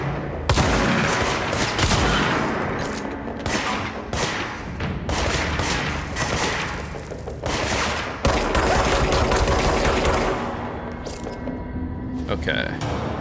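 Rapid gunfire from the video game Control crackles in dense bursts for most of the stretch, loud and continuous, with people talking over it.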